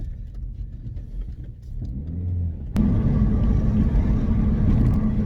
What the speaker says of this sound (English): the more I listen to it, the more it sounds like a bearing